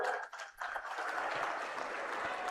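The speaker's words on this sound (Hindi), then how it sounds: "जोर से ताली बजाओ" A crowd at an outdoor election rally claps in sustained applause, a dense wash of hand claps heard at moderate distance that briefly thins before swelling again.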